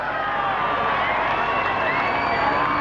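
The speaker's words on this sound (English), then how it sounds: "but a big cheer for Gary Ablett." A crowd at the 1994 AFL Grand Final parade cheers for Gary Ablett, a sustained wash of shouting and whooping voices, children among them, holding steady and loud throughout.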